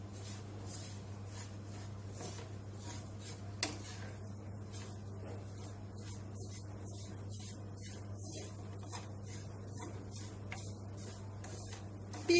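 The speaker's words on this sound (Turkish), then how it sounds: "Bunu da bir güzel karıştırıyorum." Kadayıf pastry being stirred with hazelnuts in a pan, a steady soft scraping and rustling with light clicks of the utensil against the pan, continuous and close, over a low background hum.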